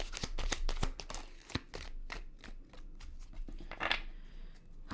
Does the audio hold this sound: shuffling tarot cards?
yes